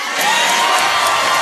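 Studio audience cheering at a talk show taping, a loud sustained swell of whoops and applause that builds within the first moment and holds.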